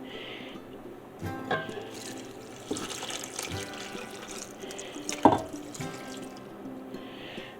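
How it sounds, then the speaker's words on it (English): Water runs and splashes into a pot holding rose petals, with uneven gushes and a few clunks, moderately close and without speech. "Now we're going to add the water."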